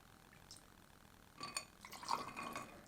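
Johnnie Walker White Walker whisky poured slowly into a glass, a soft trickling and splashing that starts after a quiet lead-in and builds into faint, near liquid sounds with a few small clinks.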